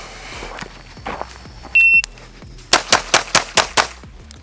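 Pistol shots fired in a practical shooting transitions drill: six sharp, loud reports in a fast, evenly spaced string near the end, preceded by a few softer impacts and a brief electronic timer beep.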